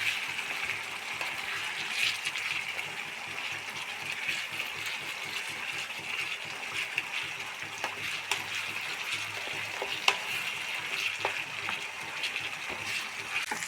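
Kanthari chicken curry bubbling and frying in a pan as its liquid reduces, a soft continuous sizzle with scattered pops and crackles, faint and close, with no talk over it.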